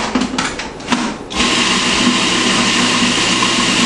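A blender whirs through basil pesto with garlic, salt and olive oil, starting with a few uneven pulses then settling into a loud, steady motor whine that runs to the end.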